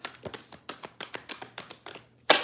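Tarot cards are shuffled by hand in a quick series of soft, papery slaps and taps, about a dozen in a rhythmic run, finishing with one sharper, louder snap of the deck.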